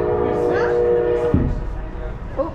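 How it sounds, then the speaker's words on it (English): Whistle or horn of a toy train exhibit at a children's museum, a steady tone that gives way to clattering movement, with people talking nearby. "the train is on its way."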